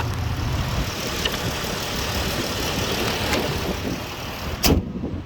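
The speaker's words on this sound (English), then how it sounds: "We about to go drive and make sure he got all his gears." A Dodge Avenger with a 3.6 engine runs close by, a steady, unbroken engine rumble and road noise that carries throughout, with a brief sharper knock near the end.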